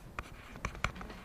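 Pen or pencil writing a structural chemistry diagram by hand, a few faint, brief scratchy strokes heard close up.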